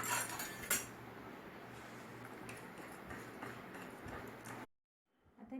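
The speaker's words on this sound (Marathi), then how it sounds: "पिठी साखर, मिल्क मेड आणि तूप हे चांगलं मी मिक्स करून घेणार आहे।" Powdered sugar, condensed milk and ghee being mixed in a bowl for an eggless sponge cake, a steady scraping and clinking of utensil against bowl lasting several seconds, then abrupt silence near the end.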